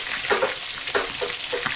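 A fish head frying in hot oil, a steady close sizzle with a few soft stirring scrapes on top, no voices.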